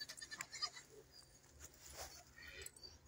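A nanny goat that has recently borne kids bleats softly several times among faint rustling and background noise, close but quiet.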